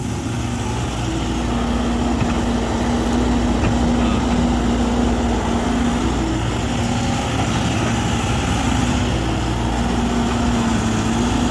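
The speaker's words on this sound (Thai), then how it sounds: "เครื่องยนต์อีซูซุครับ4สูบ" An Isuzu four-cylinder diesel engine in a Sany SY135 excavator runs continuously at a steady idle, a loud, even rumble with a constant low hum and no breaks.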